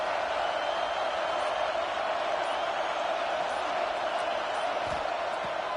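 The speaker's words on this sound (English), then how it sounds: "The Tide crowd rolling noise down onto Saban Field on 3rd down." An Alabama Crimson Tide football crowd roars at Saban Field on third down, a steady, dense wash of noise filling the stadium without letup.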